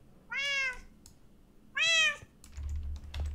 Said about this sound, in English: Yes, cats, I hear you.